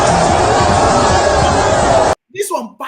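A large crowd at a political rally roars loudly and continuously, a dense wall of cheering and voices, then cuts off abruptly before a brief bit of quieter sound.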